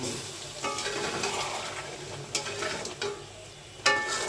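Boal fish with tomato sizzles and frys in a pan while being stirred, with scraping utensil strokes and a few sharper clanks against the pan, close and fairly loud with no voices.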